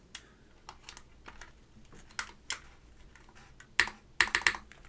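Keystrokes on a Class 65 custom mechanical keyboard, sparse at first, then building into a few louder, sharper clacks near the end, close and crisp over a quiet room with no talking.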